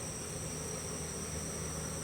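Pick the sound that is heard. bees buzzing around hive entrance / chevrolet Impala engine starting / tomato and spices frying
bees buzzing around hive entrance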